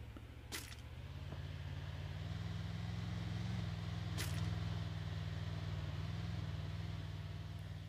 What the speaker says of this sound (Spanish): Escucho un auto.